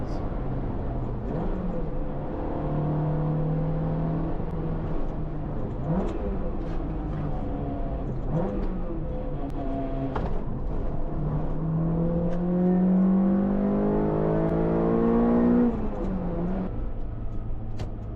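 A car engine revs hard under acceleration, its pitch climbing in repeated rising sweeps as gears change. The sound is close, loud and continuous throughout, with no talking.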